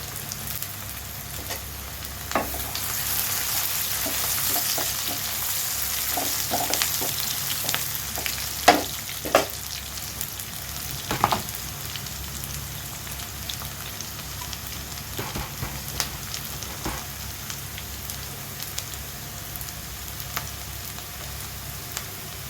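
Onions fry in oil with cardamom and a piece of cinnamon, a steady sizzling hiss broken by sharp crackles and pops, close and moderately loud with no talking.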